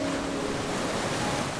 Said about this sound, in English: The majestic roar of the waterfall.